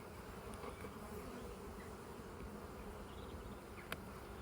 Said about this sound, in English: the bees have gone up a pitch in terms of noise